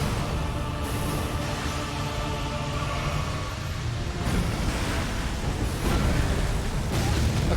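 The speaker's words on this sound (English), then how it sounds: "Okay, there's an explosion." A video game explosion in Elden Ring surges as a sustained roaring burst over windy, rushing background noise, with two louder swells partway through.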